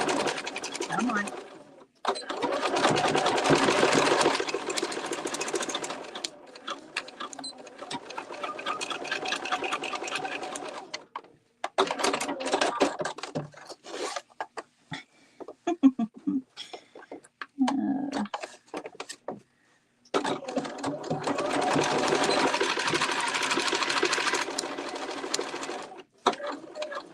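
A home sewing machine runs in long steady stitching bursts, stopping and restarting between them, with quieter gaps where a person talks during a casual live sew-along.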